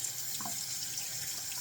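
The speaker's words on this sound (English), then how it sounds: "I hope the water is not too loud" Tap water runs steadily into a sink while a vacuum filter is rinsed clean, a constant soft splashing hiss with slight gurgles and no voices.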